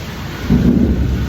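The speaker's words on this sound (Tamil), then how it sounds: "இடிலாம் இடிக்குது." Thunder rumbling during rain: a low, loud rolling rumble swells briefly over a steady hiss of rainfall, with no voices.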